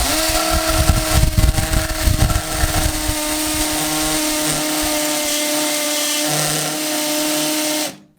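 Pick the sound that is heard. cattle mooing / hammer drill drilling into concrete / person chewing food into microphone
hammer drill drilling into concrete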